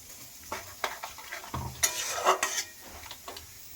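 Okra curry bubbling and sizzling in a pan just after water is poured in, with scattered clinks and scraping from stirring, moderately close and fairly quiet, no voices.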